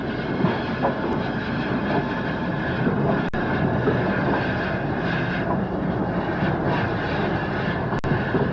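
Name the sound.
steam freight locomotive 0-8-0 arriving at Stretchford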